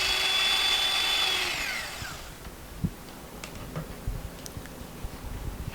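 An electric mixer whirs at medium-high speed through sweet potato pie filling with evaporated milk, a steady whine that winds down and stops after about two seconds, followed by faint clinks and taps.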